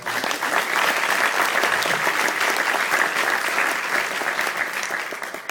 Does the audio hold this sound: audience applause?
yes